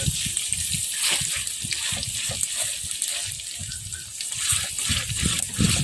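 Water is pressed out and drained from a food item, a gushing, sputtering trickle that runs continuously up close with soft clicks and handling noises.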